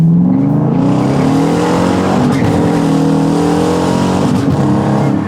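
A Dodge Challenger R/T's engine revving, a loud, close, continuous roar that climbs and holds with a rich harmonic growl and slight pitch swells, with no talking over it.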